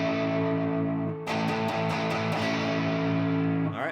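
Heavily distorted electric guitar in standard tuning with no capo, playing a rock riff: a sustained chord rings, then a series of sharp picked strikes drive on, loud and unaccompanied.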